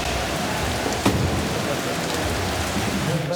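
Heavy rain falls in a steady, loud, dense hiss that holds without letup throughout, with one brief thump partway through.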